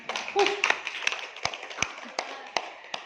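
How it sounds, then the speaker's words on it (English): Scattered classroom applause from a small group of students, a few sharp claps standing out over a sparse patter, with voices murmuring underneath. "Give applause"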